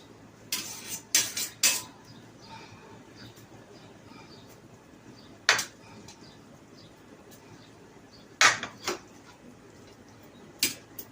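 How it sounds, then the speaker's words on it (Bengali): Fried cauliflower pieces for phulkofir korma are dropped one by one into a pan, giving scattered clinks and scrapes of utensil on metal, separated by quiet gaps, close and without talk. "ভাজা কফিগুলো আমি এর মধ্যে একে একে দিয়ে দিলাম"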